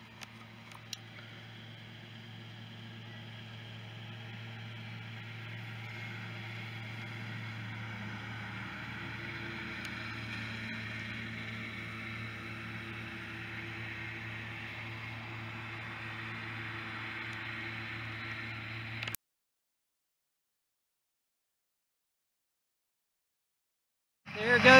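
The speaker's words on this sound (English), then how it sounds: "There goes my husband by on his little 3000 Ford baling some hay." Small Ford 3000 tractor baling hay in a field, its low steady engine drone and rattling baler passing by at moderate distance for about nineteen seconds, then cutting off into silence.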